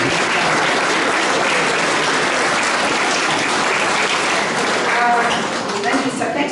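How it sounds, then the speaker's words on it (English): Dense, sustained applause from a crowd at an Australia Day 2026 community gathering in Warracknabeal, loud and continuous throughout, with a few voices faintly audible near the end. "I think we can actually applaud each other."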